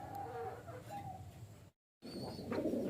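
Racing pigeons being readied in their cage, giving soft low coos close by at a faint level, with faint insect buzzing and a brief dropout of silence midway.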